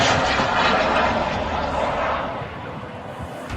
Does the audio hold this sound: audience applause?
no